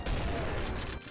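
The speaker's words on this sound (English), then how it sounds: "They're not grenades, they're the rocket launcher, really." A rocket launcher fires in Doom RTX with a brief, heavy, booming blast and a rumbling tail that drops off abruptly about a second in.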